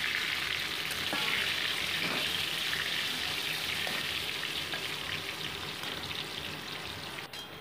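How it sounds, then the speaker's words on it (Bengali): Salt-and-turmeric coated potato pieces frying in hot oil for chicken curry, a loud, dense, steady sizzle close by that eases slightly toward the end; no speech. "নুন হলুদ মাখানো আলুর টুকরোগুলোকে জাস্ট একটু গোল্ডেন ব্রাউন করে"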